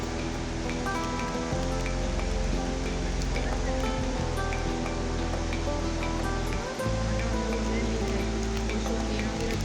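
Dunhinda Falls in Badulla pours through a valley, a loud, continuous roar of rushing water filling the whole stretch, steady and close with no breaks.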